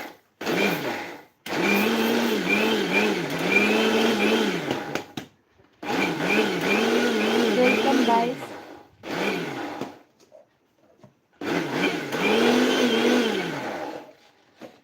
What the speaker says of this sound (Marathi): ते घेतलेले बिस्किट जे आहेत ते आपण मिक्सरमधून वाटून घेतले